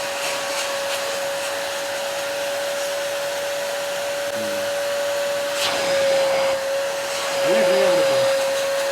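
A vacuum cleaner fitted with an attachment sucks water from a mat, a loud, close, steady whine with a sustained tone, and brief gurgling surges toward the end.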